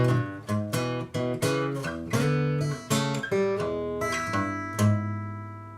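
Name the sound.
guitar playing blues micro licks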